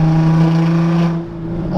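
Infiniti G35 Coupe with resonated test pipes, a loud droning exhaust tone that drops off sharply partway, followed by small crackling pops as it settles.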